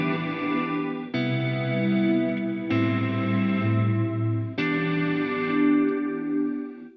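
Sustained guitar chords pass through an Eventide H9 non-linear reverb with Slurm at 100%, four swelling notes each cut off sharply before the next, with thick, smeared, chorus-like tails.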